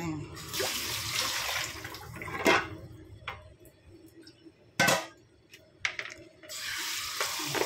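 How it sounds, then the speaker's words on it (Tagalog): Running water splashes in a home kitchen sink during washing, coming in uneven bursts and gushes with quieter gaps, while a person talks softly now and then. "Ugasan ko lang siya."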